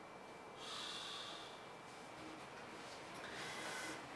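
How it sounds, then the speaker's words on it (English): A person snores in the background at a computer install session, giving soft breathy snorts that swell twice over a steady hiss, faint and distant with no talk. "If you hear snoring in the background"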